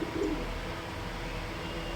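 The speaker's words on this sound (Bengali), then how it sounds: "এই একটা পায়রা, পায়রাটা দেখুন শুধু, আমাদের মগরাহাট থেকে নিলাম।" A male pet pigeon gives a brief, low, throaty coo right at the start, then only a steady, dull background murmur fills the rest of the moment.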